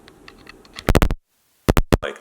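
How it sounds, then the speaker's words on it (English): A Movo microphone is plugged into a Canon camera, heard as a few sharp, close plastic clicks and knocks in two short bursts separated by a moment of dead silence. "And now I will plug the microphone back in."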